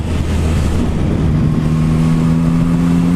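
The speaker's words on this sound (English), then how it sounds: "And the quick shifter is brilliant." A 2021 Yamaha MT-09 SP motorcycle engine drones loud and steady under riding, with the pitch stepping up partway as the quick shifter changes gear, wind noise around it.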